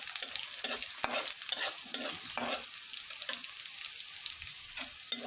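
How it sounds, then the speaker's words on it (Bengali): Chopped onions sizzle in a pan while a spatula scrapes and stirs them in repeated strokes, a soft crackling fry under close, rhythmic scraping. "এখন এটা লাল লাল করে ভেজে নেব।"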